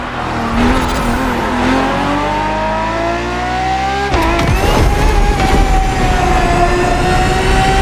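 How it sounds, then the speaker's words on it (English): Ferrari FXX-K race car in The Crew Motorfest, its engine screaming loud and close as the revs climb steadily, then dropping sharply on a gear change before pulling hard again, alone without talk. "More than a car, the FXXK is an experiment for its makers and an experience for its drivers."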